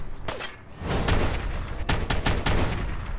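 Rapid rifle fire in Fallout 4, a dense burst of loud, close shots rattling over about three seconds with no pause.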